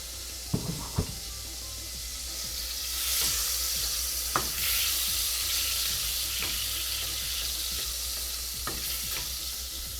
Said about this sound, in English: I'm going to go ahead and add a little bit of butter to my pan here. Let's go ahead and melt that down.